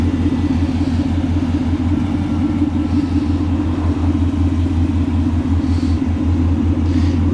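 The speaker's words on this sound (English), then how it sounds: "It's got just enough rumble where you know it's a V8" A steady, deep V8 engine rumble idles continuously from a 1972 Chevy C-10 Cheyenne Super with an LS engine, low and throaty through its truck exhaust, close by and even in level throughout.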